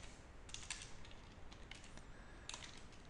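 Typing on a computer keyboard while writing code, with a few short bursts of soft, quiet keystrokes separated by pauses and no talking.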